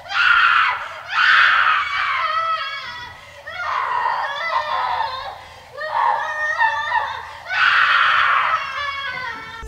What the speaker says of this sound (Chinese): 接着屋内发出了凄厉的惨叫。